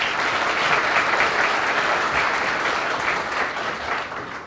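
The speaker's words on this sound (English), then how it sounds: "Please give them both another round of applause." An audience at a graduation ceremony claps in sustained, dense applause that holds steady for several seconds before tapering slightly at the end, with no one speaking over it.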